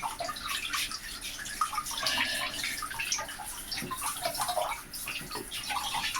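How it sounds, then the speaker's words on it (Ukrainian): Water pours over a leg resting in a bathtub, a steady continuous splashing rinse with no talking. "нога лежить в ванні, ми її просто змиваємо, обливаємо"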